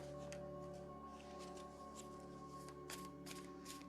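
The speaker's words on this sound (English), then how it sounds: "Okay, I need to shuffle like this." A well-worn deck of oracle cards being shuffled by hand gives soft, quiet, papery rustles in irregular bursts over a faint background hum, with no talking.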